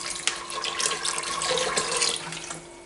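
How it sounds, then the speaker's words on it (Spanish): Water pours steadily from a tap into a pot of white beans for a potaje with chorizo, a continuous close splashing rush lasting a few seconds before tapering off. "ya tenemos ahí las habichuelas y vamos a ponerle agua"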